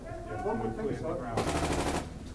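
Rapid bursts of airsoft gunfire ring out during an indoor close-quarters game in a hospital building, a loud sustained volley in the second half following a quieter stretch with faint voices.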